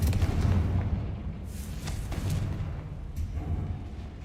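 Confringo blasting spell explosions in the Hogwarts Legacy video game, a series of deep booming blasts and rumbling impacts with crackling bursts, fairly loud and repeated over a few seconds.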